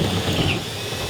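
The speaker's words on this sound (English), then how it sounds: "David, he's drilling holes in the trunk" A power drill bores holes in a car's trunk at a performance car shop, a continuous loud whirring drone heard close up with no pauses.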